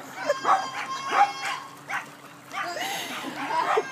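Dogs bark and yip in short bursts, fairly close, with some whimpering and excited voices mixed in.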